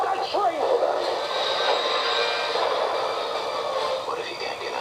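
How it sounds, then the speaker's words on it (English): A train runs on the rails in a tense movie chase scene from a 2011 crime drama, a steady broadband rumble and rattle lasting throughout under speech and dramatic sound. "Stop that train!"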